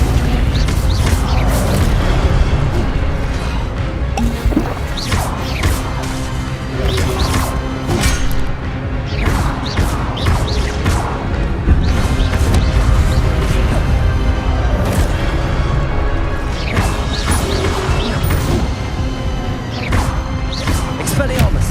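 Repeated spell casts in the video game Hogwarts Legacy, sharp bursts, whooshes and crashing impacts in quick irregular succession, loud and dense, with a voice calling out incantations among them.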